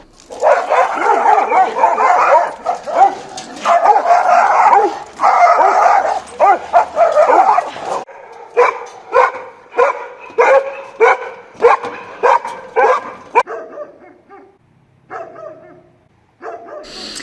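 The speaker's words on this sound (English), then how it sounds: "the balcony dog barks and annoys the neighbors" Dogs barking from balconies in Athens, a loud close run of repeated barks and yips in irregular bursts, with a few whimpers and pauses toward the end.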